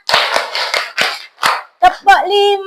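Five crisp, close hand claps from a primary-school class come in an even rhythm, and then voices speak.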